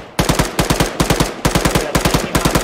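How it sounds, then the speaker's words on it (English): Rapid bursts of automatic gunfire from infantry in a military shooter game, several loud close volleys of quick repeated shots separated by brief pauses. "I got the infantry shooting at me"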